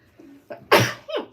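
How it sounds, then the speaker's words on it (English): A single sharp sneeze bursts out after a couple of short inhaling breaths, followed by a quick voiced exhale, close and loud. "Oh man, I'm gonna sneeze."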